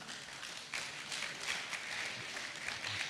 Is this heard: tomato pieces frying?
no